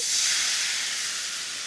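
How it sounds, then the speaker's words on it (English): Red wine poured into a hot pan for deglazing sets off a loud, sharp burst of steam hissing that fades slightly over a second or two, with no talking. "in this pan, I'm going to deglaze with some red wine."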